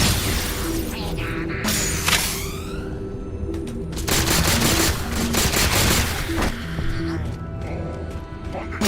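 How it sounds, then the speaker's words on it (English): Plasma pistol fire from the Halo 4 video game: bursts of mechanical, crackling weapon shots in a dense, continuous barrage, loud and busy with layered explosive game effects throughout. "the plasma pistol sounds mechanical"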